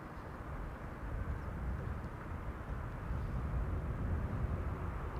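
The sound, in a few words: Delta Airbus A330 airliner arriving at Amsterdam Schiphol Airport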